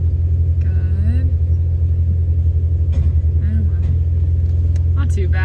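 A loud, throbbing off-road vehicle muffler exhaust rumbles steadily throughout on a Moab, Utah trail, with voices talking over it now and then.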